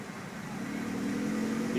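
Suzuki Swift Sport fitted with a Greddy exhaust under light throttle, a steady low engine drone that swells slightly and holds close and clear, with no talk over it.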